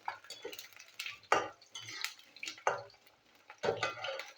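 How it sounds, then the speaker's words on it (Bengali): Potatoes fry in oil left over from frying bottle-gourd kofta for a curry. A moderate hiss runs under repeated sharp clinks and scrapes of a utensil against the pan. "আর ওই তেলেই আমি আলুগুলো ভাজছি।"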